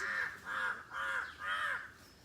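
A crow caws four times in a steady, evenly spaced series, each call harsh and drawn out, fairly faint and distant, with no one talking.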